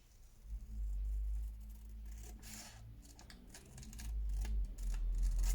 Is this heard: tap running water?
no